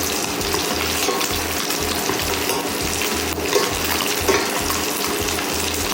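Ribeye steak sizzling in a pan while being basted with butter, a steady loud frying hiss with crackles and a rhythmic spooning pulse underneath, no voices.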